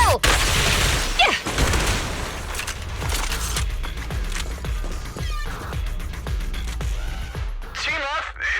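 Rapid bursts of gunfire and booming impacts dominate a battle in the video game Zenless Zone Zero, loud and close, mixed with mechanical clanks and voices speaking over the action.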